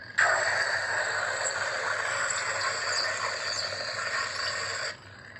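Lock-up effect of a Rebel Sabers Solstice lightsaber: a steady, crackling electric buzz that holds at an even, fairly loud level for about five seconds before cutting off, with no voices.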